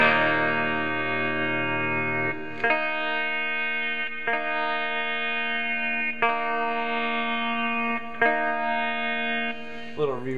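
Electric guitar played through an Egnater Rebel 30 head with reverb set high, a surf-style line of sustained, ringing notes with heavy reverb tails, struck again every couple of seconds, close and clear with no talk.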